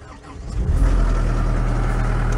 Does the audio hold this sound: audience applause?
no